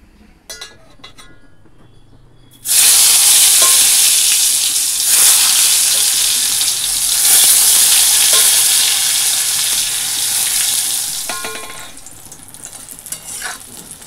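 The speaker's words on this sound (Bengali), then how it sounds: "মিষ্টি কুমড়ো ভাজা হয়ে গেছে, আরও একটু আছে, ভেজে নেবো" Sweet pumpkin frying in a pan, a loud steady sizzle that starts abruptly and fills most of the span, with occasional stirring clinks and scrapes before it fades at the end; no talking.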